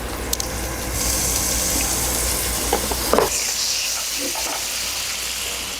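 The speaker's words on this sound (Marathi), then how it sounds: "छान भरपूर बटरमध्ये आपण हे करतोय आणि बटर जळू नये म्हणून थोडस फक्त तेल घालणार आहोत" Butter with a little oil sizzling in a pan for tawa pulao, a steady close hiss of frying with faint clinks and scrapes partway through, no talk.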